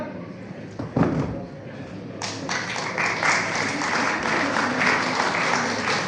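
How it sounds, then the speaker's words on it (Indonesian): Scattered claps and a few thumps swell into fuller audience applause for active personnel who won medals at a unit reunion, with some voices underneath. "Beri tepuk tangan yang meriah untuk personil aktif yang telah mempersembahkan medali."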